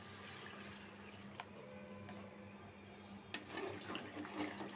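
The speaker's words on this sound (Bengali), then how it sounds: "এখন অল্প একটু জল দেব।" A small splash of water poured into a pot of simmering taro curry, a short liquid pour rising near the end over steady kitchen background hum.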